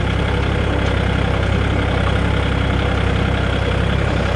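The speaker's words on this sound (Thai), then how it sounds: "ก็เหมือนได้นั่งรถไถกับเรานะคะ สั่นสะเทือนไปหมดเลย" A farm tractor engine running steadily, a loud, close, continuous low rumble with a rattling, vibrating texture and no talk.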